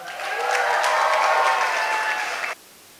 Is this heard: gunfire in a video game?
no